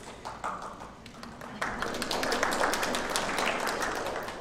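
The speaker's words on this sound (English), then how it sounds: "Applause are always" Audience applause at a school board meeting, quiet and somewhat distant: a few scattered claps at first, then fuller clapping that holds steady to the end.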